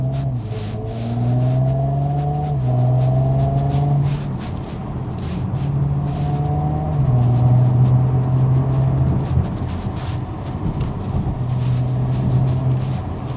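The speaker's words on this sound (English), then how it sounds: "capture the essence and the beauty of what this engine sounds like" A 2017 Audi S5 Sportback 3.0 TFSI Quattro engine pulls hard through the gears on countryside lanes, its deep harmonic drone rising in pitch, dropping at each shift, then climbing again, loud and steady.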